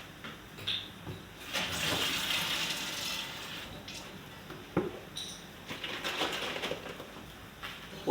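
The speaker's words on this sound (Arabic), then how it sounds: "بنحط شويه ميه صغيره علشان نشطف العلبه" A small splash of water swirls and rinses inside an emptied tomato sauce can in a kitchen, sloshing in uneven bursts over several seconds.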